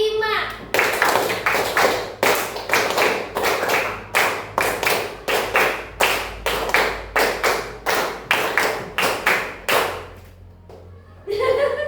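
Rhythmic hand clapping from a classroom group doing an ice-breaker, with sharp claps in counted bursts that repeat in a steady pattern for several seconds. Children's voices and a brief laugh are heard between the claps.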